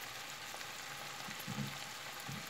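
Vegetables for a meatless chili sin carne cooking in a pan over low heat, a faint steady sizzle with soft scraping stirs near the middle and end, quiet and close.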